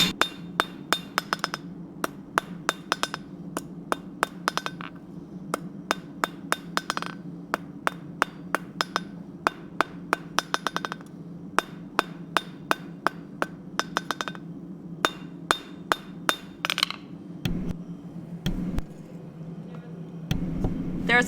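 Metal is hammer-forged on an anvil into Christmas gifts: a long run of sharp, ringing blows, quick and rhythmic, broken by brief pauses, with a low background hum and faint voices at times.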